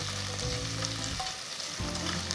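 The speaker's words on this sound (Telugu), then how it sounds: "పొడవగా తరిగిన రెండు ఉల్లిపాయ ముక్కలు వేసి ఒక నిమిషం పాటు వేయించుకోవాలి" Long-sliced onions hit hot oil with whole spices including cardamom while a mushroom pulao is being made, a steady close sizzle with a soft stir or two and some low hum, no talking.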